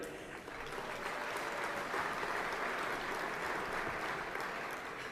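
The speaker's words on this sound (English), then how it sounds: "Big round of applause to Mary." A crowd at a business awards ceremony applauds steadily, a sustained wash of clapping from many hands that holds at an even level throughout.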